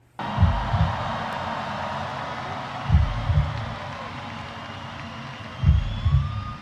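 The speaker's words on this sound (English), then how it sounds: "Heartbeat." Deep double-thump heartbeats sound in a live orchestral performance: three loud lub-dub pairs spaced slow and even over a sustained, hissing ambient wash.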